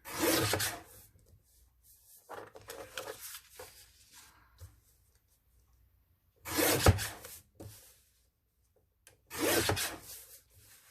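Paper being cut for a handmade autumn journal page made from an altered file folder, heard as close, dry rasping strokes in three separate bursts with quiet gaps between them.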